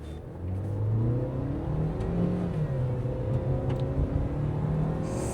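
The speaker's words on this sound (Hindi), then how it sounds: "अराउंड 10 की स्पीड में मैं एक्सेलरेट करता हूँ" A 2026 Tata Safari petrol SUV accelerating hard in sports mode from around 10 km/h, its engine note climbing through rising and shifting pitches as it pulls strongly, heard from inside the cabin with no talking.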